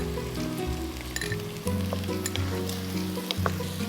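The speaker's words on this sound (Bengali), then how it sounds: "আমার পেঁয়াজটাও প্রায় ভাজা হয়ে গেছে।" Onions frying in a pan for beef tehari keep up a continuous, fairly close sizzle, with faint stirring beneath it.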